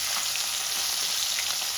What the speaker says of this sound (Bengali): মাছগুলো আমি লাল লাল করে ভেজে নেব তেলটা খুব ভালো করে গরম করতে লাগে